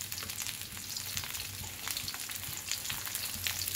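Small pointed gourds frying in hot oil give a continuous close crackling sizzle with occasional light stirring, steady throughout and free of talk.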